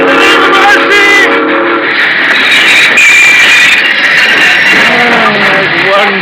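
A train sound effect in an old-time radio drama: a rumbling passing train with a wailing whistle or horn blowing over it, loud and continuous, with a voice speaking over part of it.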